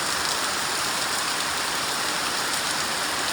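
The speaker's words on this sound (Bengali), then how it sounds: "সকালবেলা দেখো কি হারে বৃষ্টি শুরু হয়েছে" Heavy early-morning rain pours down in a steady, even hiss that fills the whole space, moderately loud and unbroken, with no voices or other sounds.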